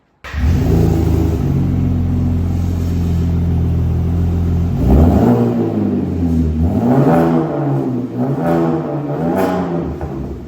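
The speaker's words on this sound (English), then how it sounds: "we have their trombone, we have their muffler slash resonator, and it sounds awesome" A Ford Raptor truck with a muffler and resonator exhaust setup idles with a deep, loud rumble, then revs up several times in rising and falling surges.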